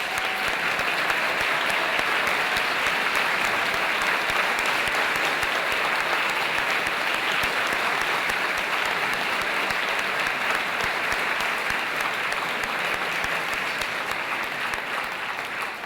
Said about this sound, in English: We should all give you a round of applause for your service.